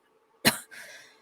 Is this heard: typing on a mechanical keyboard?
no